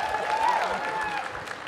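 Audience applause at a live comedy podcast taping at a gaming convention, a steady wash of clapping filling the short stretch with a little cheering mixed in.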